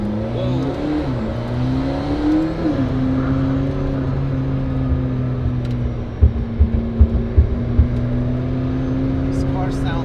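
A car revs and accelerates hard, its rising engine drone sustained and close throughout, with a few short knocks or thumps near the end and voices speaking over it.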